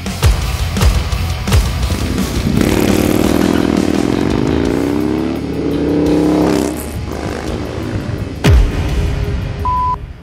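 Harley-Davidson Low Rider ST with a 128 cubic inch engine and Street Fighter heads, revving loudly nearby: sharp throttle blips, a sustained rising roar, then more quick revs.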